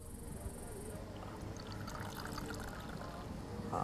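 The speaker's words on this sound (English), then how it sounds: "Let's pour the brew and add some hot water." Hot water pours from a samovar into a cup of tea brew, a continuous trickling stream heard close up for several seconds with light room noise around it.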